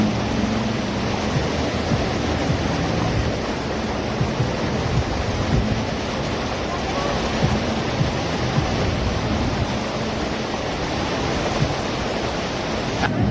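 Rushing water from a waterfall at a Majayjay, Laguna resort roars as a steady, dense wash of noise with no pause or change throughout.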